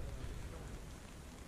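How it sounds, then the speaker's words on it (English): Steady rain falls at a lakeside campsite on Basin Lake in Algonquin, a dense continuous hiss of drops spattering on surfaces with no distinct individual hits, constant in level throughout. "So it's been off and on rain since we got here."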